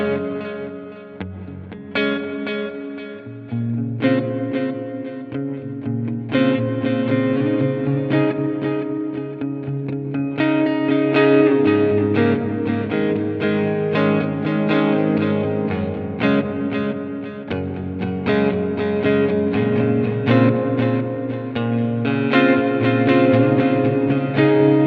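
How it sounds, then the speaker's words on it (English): A BOSS RV-3 digital delay and reverb pedal in its delay-plus-hall-reverb mode, a sustained, distorted instrument line washing into long echoing repeats and a spacious hall tail, loud and continuous with no talk. "the next mode is delay and a hall reverb"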